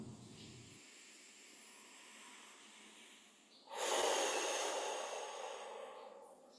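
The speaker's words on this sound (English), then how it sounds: "Focus on the inhale and exhale." Slow, deep meditative breaths, a steady hushed inhale followed by a louder, fuller exhale that swells partway through and tapers off, close and alone with no talking.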